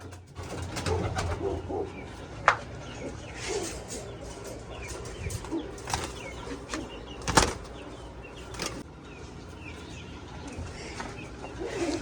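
Soft low cooing from pigeons nearby, mixed with occasional wing flaps and scattered chirps against a steady outdoor background.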